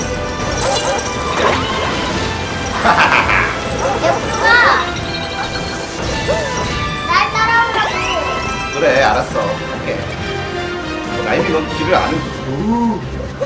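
In Super Mario Odyssey, a dog gives several short, bright yips and barks at intervals. Busy game music and effects play under them, and a person talks throughout.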